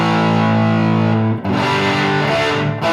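An electric guitar plays chords through an Orange Micro Dark amp turned up to two o'clock, giving a loud, buzzing crunch distortion with sustained ringing chords, a short break, then another strummed chord.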